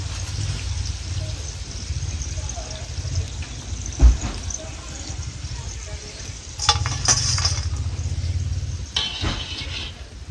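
Sev, noodles made from gram flour, sizzling in hot oil and being turned over, with a steady close crackle, occasional stirring and scraping clinks, and a faint voice in the background.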